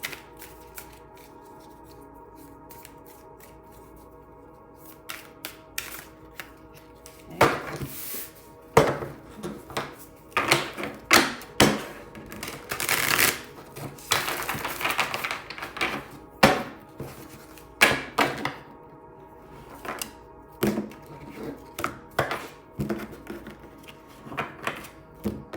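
Tarot cards are shuffled and cut by hand, giving repeated riffling bursts and soft taps and slaps in irregular clusters, close and fairly quiet, after a near-silent start.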